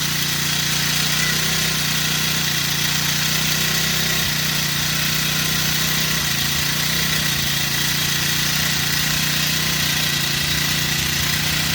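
A newly unboxed grass cutter's small engine runs continuously at close range, a loud, steady buzzing drone that holds its pitch for the whole stretch with only slight shifts.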